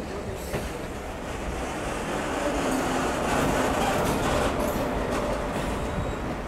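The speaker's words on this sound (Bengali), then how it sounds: "সামনে ব্যাক টু ব্যাক আরও একটা এক্সপ্রেস ট্রেন আসছে" The Howrah–Sahebganj Intercity Express passes close by: a loud, steady rumble of wheels and carriages with faint clicks and squeals on the rails, swelling slightly mid-pass and holding constant throughout, with no voices.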